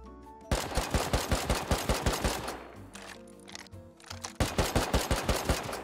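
Rapid bursts of automatic gunfire in the video game Rust, loud and close, in two long rhythmic strings separated by a short pause with lighter rattling.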